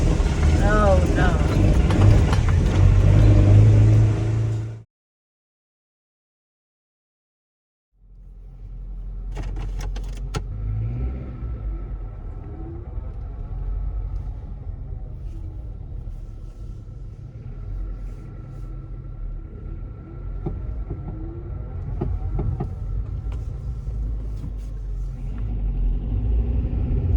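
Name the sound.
car engine running and rumbling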